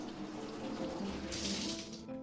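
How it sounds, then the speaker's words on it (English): Water from the rinse-off shower attachment of a hotel bathtub hisses softly and steadily. The spray briefly brightens near the end before cutting off. "Now this bath does come with its very own rinse-off shower attachment."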